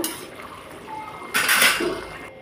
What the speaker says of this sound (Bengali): তো এখন তরকারিটাকে আমি পুরো ঢেলে নিচ্ছি।